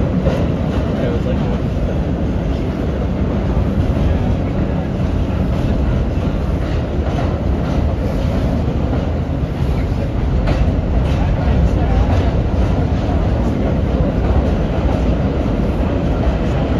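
Onboard an R32 subway train running from Brighton Beach to 96 St in New York: a steady, loud rumble of wheels and car body with rhythmic rail clatter throughout, and no pauses.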